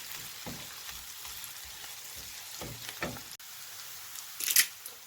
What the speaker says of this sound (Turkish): Tepeleme bir tatlı kaşığı salçamı da ekleyerek kavurma işlemime devam ediyorum.